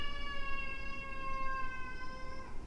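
A cat gives one long, drawn-out, tonal meow that slides slowly downward, close but fairly quiet against low background noise.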